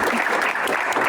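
A studio audience claps for a contestant on an Amharic quiz game show, dense steady applause loud and close for a brief burst.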